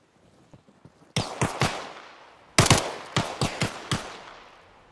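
Loud, close gunfire in Arma Reforger, two separate bursts of sharp single shots in quick succession, each crack followed by a brief decaying echo, with a few faint shots before.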